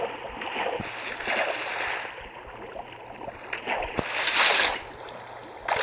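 Water in the video game Minecraft sloshes and splashes in a continuous wash, with a sharper, brighter splash swelling near the end and no voices.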